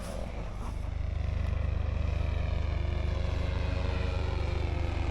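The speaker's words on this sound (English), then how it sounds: "And here the planes in the distance." Radio-controlled model airplanes fly at a model flying meet at Much Marcle, giving a continuous, steady engine drone from a distance with no pauses.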